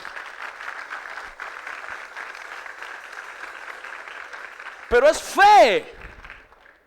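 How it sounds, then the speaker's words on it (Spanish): A church congregation claps for the Lord during a sermon, sustained applause through most of the stretch before a loud amplified voice cuts in near the end. "Dele un aplauso al Señor."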